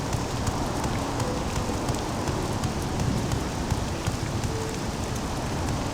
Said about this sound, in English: rain, I can feel cold coming on already.